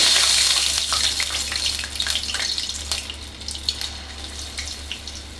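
Punugulu batter fritters deep frying in hot oil, a steady close hiss and crackle with scattered pops throughout, no talking.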